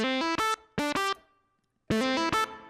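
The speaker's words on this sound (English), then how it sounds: "So pretty basic reverb for your synth sound." Bright, buzzy synth notes from the Waves Element synth played in short stabs with reverb, a faint tail ringing out into a pause before more notes.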